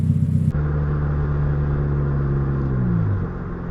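A Mitsubishi car with a 1.5L turbo engine and a rewelded exhaust drives along with a loud, steady low engine drone and exhaust rumble, the pitch sliding down toward the end as it eases off.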